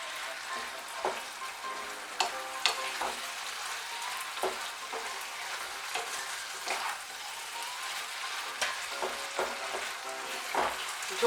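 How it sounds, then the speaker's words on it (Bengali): Malabar spinach and other vegetables frying over high heat, a dense crackling sizzle broken by repeated stirring scrapes and taps against the pan, close and steady, no voices. "বাড়িয়ে দিয়ে সবজিগুলো একটু নাড়াচাড়া করে নেব"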